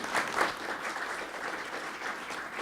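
Warm audience applause welcomes two interview guests, the co-founders of ScriptDrop, onto a stage; a steady, dense wash of clapping fills the moment with no talking over it.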